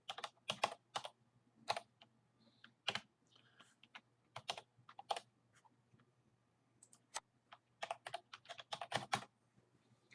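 Login details are typed on a computer keyboard, a string of crisp key clicks in quick bursts with short pauses between them, close and fairly quiet in an otherwise still room.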